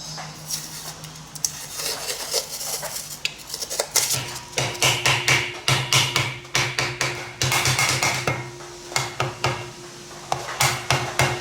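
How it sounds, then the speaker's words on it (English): A PVC tube being knocked out of set furnace refractory inside a propane-cylinder foundry furnace, a rapid series of sharp knocks and taps, close and loud, coming in clustered bursts with brief gaps. "we'll just see if we can get this piece of PVC tube out of here now"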